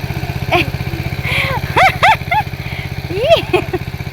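A small pump engine runs steadily beside a pond being drained, a rapid mid-pitched throbbing drone that stays loud from start to finish while voices talk over it.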